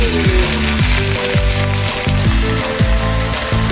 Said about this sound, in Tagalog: Ilagay na natin ang ribs ng beef.